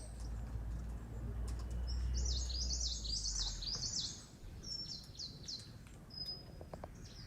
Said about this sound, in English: So we're going to go on a walk, and we're going to look for some birds.